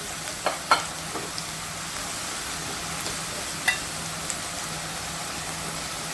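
Potato and cauliflower curry frying in a pan with turmeric, a steady low sizzle with a few soft stirring clicks and scrapes, close and alone.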